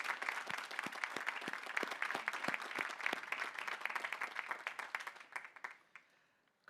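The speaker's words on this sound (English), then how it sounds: "How about another round of applause?" Applause from the audience at a graduate school matriculation ceremony, with a steady round of clapping that holds for about five seconds and then fades to silence.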